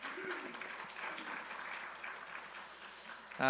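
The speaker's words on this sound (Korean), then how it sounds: "다시 한번 큰 박수로 축복해 주시죠" Congregation applauding in a church to bless a student during a Sunday service flower presentation, a steady wash of clapping filling the room before cutting off.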